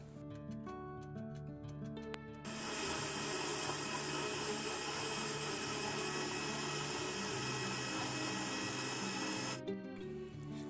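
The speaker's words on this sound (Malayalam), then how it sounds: "ഇനി നമുക്കിതിലേക്ക് നല്ല തണുത്ത പാലും കൂടെ ഒഴിച്ചു കൊടുത്തിട്ട് ഇത് നന്നായിട്ടൊന്ന് അടിച്ചെടുക്കണം" A kitchen blender whirs loudly while mixing a carrot drink with cold milk and cardamom, starting abruptly after a short stretch of low humming, running at a steady roar for about seven seconds, then cutting off sharply.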